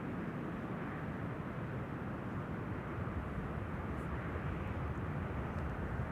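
A KLM Boeing 737 arriving from Berlin at Amsterdam Schiphol gives off a constant, fairly faint broadband engine rumble, unchanging over the few seconds, with no speech.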